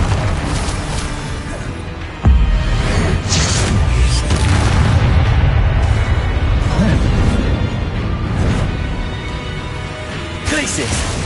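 Blasting-curse explosions and magic spell effects in a Hogwarts wizarding video game, with a sharp booming impact and sustained rumbling blasts over dense game sound.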